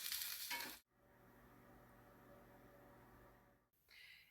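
Sirloin steak sizzles in a frying pan, a steady close crackle that is briefly interrupted by louder stirring or handling noise at the start and end.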